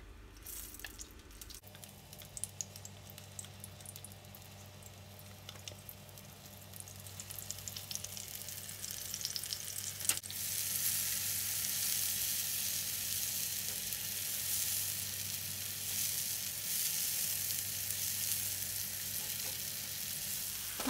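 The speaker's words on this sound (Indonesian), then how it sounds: "Tumis bumbu yang sudah dihaluskan sampai benar-benar matang." Ground spice paste for Indonesian sambel urap sautés in a non-stick pan, a close, steady sizzle with light stirring that grows louder and fuller partway through, with no talking.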